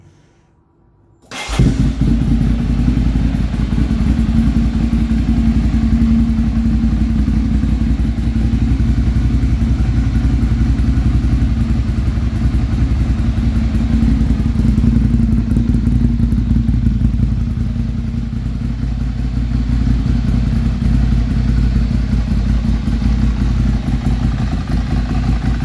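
A Ducati Monster 696 motorcycle fitted with two new Iridium spark plugs starts after a brief quiet moment, then idles loud and close with a steady, throbbing engine note that continues unbroken to the end.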